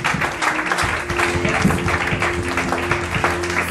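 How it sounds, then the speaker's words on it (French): A church congregation at a Thursday service applauds a woman, steady dense clapping filling the space from start to finish with faint murmuring underneath. "Acclame pour cette femme."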